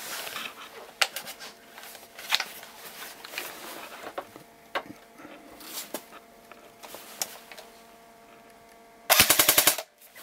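An ASG MP40 airsoft gun fires in a quick burst, a rapid rattling volley near the end after a stretch of faint clicks and handling noises, close and loud.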